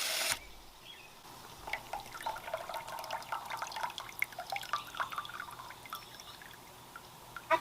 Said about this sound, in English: I go in and kind of mix it up with the sprayer full blast.